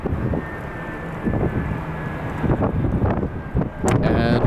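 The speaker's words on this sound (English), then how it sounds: "All right, Southwest lining up for us." A Southwest Airlines jet lines up on the runway at LAX, its engines a steady, moderately distant rumble mixed with wind buffeting, with a voice talking over it.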